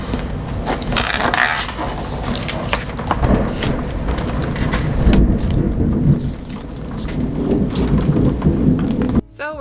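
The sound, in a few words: thunderstorm, thunder and rain in Indiana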